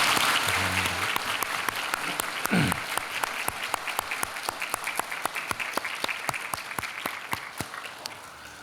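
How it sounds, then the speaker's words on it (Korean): A church congregation claps to welcome visiting worshippers, with rhythmic, unison clapping in a steady beat that continues for several seconds after a brief spoken phrase at the start. "우리 환영하면서 사랑하면서 함께 박수하겠습니다"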